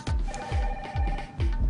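A telephone rings with a repeated electronic pulsing tone, four short bursts in a quick steady rhythm, loud and close, with no talking.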